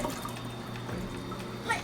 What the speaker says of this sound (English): Let's flush the toilet and see if it works.